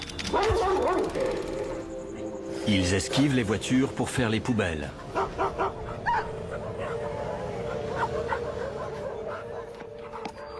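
Stray dogs bark and yip in short bursts on the streets of Mumbai, some close and some farther off, while someone narrates over them.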